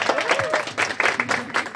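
An audience claps together at a 47th birthday celebration in Uzbekistan, a close, dense burst of applause while a host talks over it.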